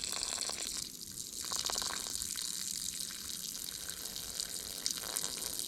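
Water draining steadily from the gas tank of a power trowel, a continuous trickling and gushing flow heard close up, with no talking.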